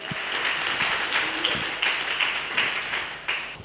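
A church congregation claps in praise during a worship service, a sustained wash of applause with a few louder clap bursts, fairly near and steady throughout.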